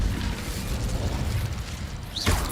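Casting the Incendio fire spell in Hogwarts Legacy produces a dense, rumbling whoosh of magical flame that rolls on steadily, ending in a brief rising swoosh and thump near the close.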